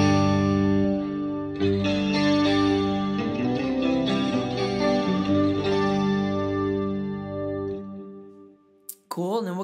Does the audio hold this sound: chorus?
yes